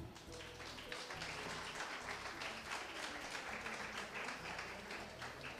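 Loud, sustained audience applause fills the hall at the grand finale of the Miss Haiti pageant, a continuous dense roar of clapping with music or a low hum running underneath throughout.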